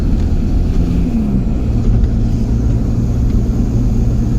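VW T25 van fitted with a TDI engine on a test drive, a steady loud diesel drone and road rumble heard from inside the cabin, without talk.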